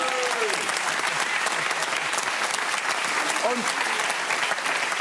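Studio audience applause on the NDR Talk Show welcoming singers Peggy March, Michael Holm and Graham Bonney, steady dense clapping throughout with someone speaking briefly over it.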